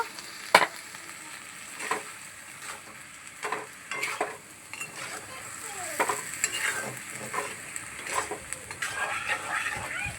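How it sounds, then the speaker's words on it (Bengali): Chickpea masala sautéed over high flame with a little water, repeated spoon scrapes and knocks against the pan over a soft sizzle, close up and irregular, without speech. "আমি একটু অল্প জল দিয়ে ভালো করে কষে নেব।"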